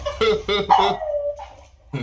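A little pug barks three quick times in a row, then gives a drawn-out whining yelp, followed by another short bark, close and fairly loud indoors.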